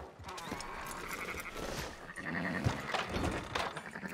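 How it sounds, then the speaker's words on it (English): Sheep bleat repeatedly in Red Dead Redemption 2 over a busy, noisy background, with several overlapping calls at moderate loudness. "Fine sheep."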